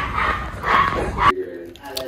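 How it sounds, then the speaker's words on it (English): A puppy gives a brief, sharp little bark, close by, over background chatter and room noise. "Is that a dog? Yeah, it's a puppy."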